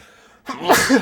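A single sharp human sneeze bursts out after a short quiet lead-in, loud and close, during play of a horror video game.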